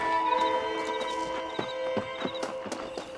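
Horses in Red Dead Redemption clop across the ground in an uneven rhythm of close hoofbeats, with a whinny and a sustained tonal game ambience behind them.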